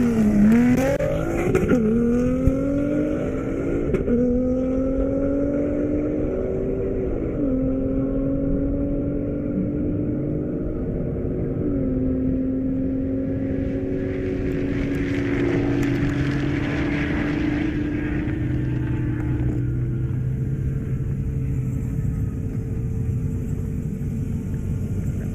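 Drag cars race down an airport runway, among them a Corvette, Jaguar F-Type, Nismo GT-R and Hellcat: loud engines rise in pitch through repeated gear shifts, then a second car roars past, with no talk.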